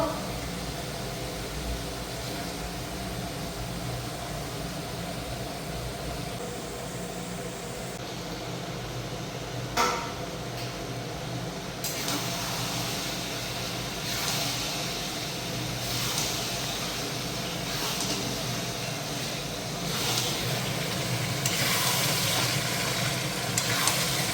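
Mutton (goat meat) goes into a pan of fried spice paste, setting off a loud, continuous sizzle that swells and shifts as the meat is stirred, with brief clatters of the utensil along the way.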